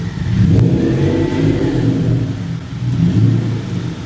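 A car with a 3.8-litre GDI turbocharged V6 drives along the road, its mid-pitched engine drone rising and falling steadily with mild revving, close and fairly loud throughout.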